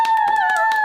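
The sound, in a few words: group of people clapping hands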